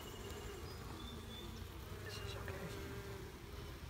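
Honeybees buzzing steadily during a Cape Cod beehive inspection, a continuous close insect drone with faint background noise and no clear talk.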